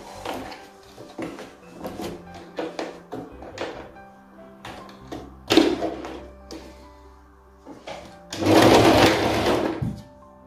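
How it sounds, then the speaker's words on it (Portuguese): A sewing machine stitches fabric for a quarter-circle skirt in short, repeated bursts of whirring with clicks and handling noises between, ending in a louder sustained run, close by. "dá sequência para você começar a costurar"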